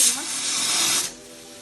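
Mustard-oil tadka of cumin seeds and a dried red chilli for Maithili dalpitthi hissing and sizzling in a hot pan, a loud broadband spitting burst for about a second that then drops to a quieter simmering hiss.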